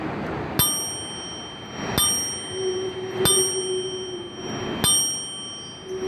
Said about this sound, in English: Sound effect, bicycle bell, Citibike bicycle bell